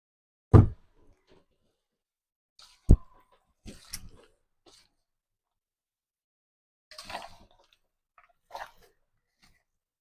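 A mother eats cooked meat, making a handful of sparse, close, soft chewing and smacking sounds separated by quiet pauses, with a sharper bite or click at the start.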